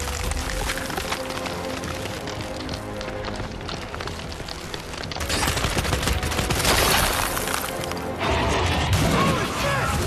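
Sustained gunfire and crashing impacts from a Gears 5 video game battle, dense and loud throughout with a heavier burst in the second half, with excited voices mixed in.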